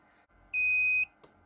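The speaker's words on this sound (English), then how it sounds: "so we heard the buzzer" An electronic buzzer on a cheese aging environment controller sounds a single steady high-pitched tone for about half a second in a quiet room, followed by a faint click.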